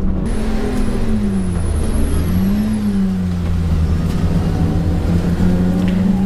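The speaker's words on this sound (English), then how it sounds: "Michael Sheridan making his way through Gerrard's and spinning the car." A classic touring car races around Mallory Park circuit, its engine loud and continuous, the pitch climbing and dropping as it revs through gear changes, with no voices.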